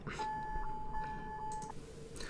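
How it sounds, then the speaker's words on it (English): A dating simulator video game sounds its alarm: one sustained electronic beep tone holds steady for over a second, clear and alone against a faint hum. "Shit, that's your alarm, right?"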